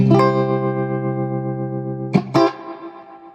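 A sustained electric guitar chord rings out through a Fender Princeton Reverb tube amp with smooth spring reverb, followed by a couple of sharp plucked hits that splash into echo.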